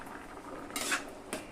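A metal lid lifted off a pot of raw mangoes boiling on the stove, two sharp clanks of metal on metal over a faint background hiss, with no talk.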